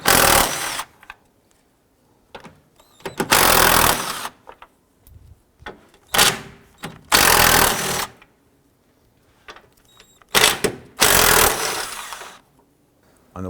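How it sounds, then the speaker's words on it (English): A power tool spins out the 13mm bolts holding the grille on a 2004-2009 Dodge Durango, with several loud close bursts of whirring separated by quiet pauses and small clicks. "We're now going to go ahead and remove the 13mm bolts holding the grill."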